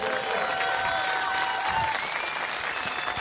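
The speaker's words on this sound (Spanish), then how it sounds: "Gente, si les gustó el show, quiero que aplaudan bien fuerte." An audience at the 138th anniversary festival of Río Gallegos applauds loudly after a show, dense sustained clapping from a large crowd with a faint tonal ring underneath, continuous throughout.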